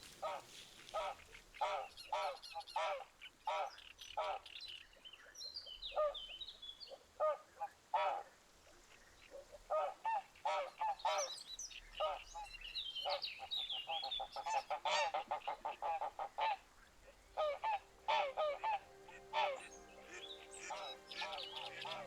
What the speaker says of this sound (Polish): Ale raz przestraszone gęsi odleciały w popłochu.